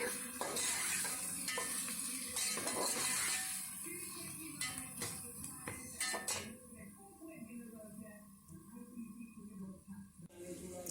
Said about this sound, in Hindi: यहाँ पर मैं इसको थोड़ी देर तक फ्राई करूँगी और हल्की आंच।